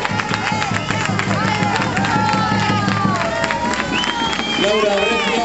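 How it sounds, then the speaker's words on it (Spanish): A crowd at the Laredo flower parade ceremony (Gran Batalla de Flores) claps and cheers in a loud, continuous outdoor din, mixed with crowd babble, whistles and music throughout. "un aplauso."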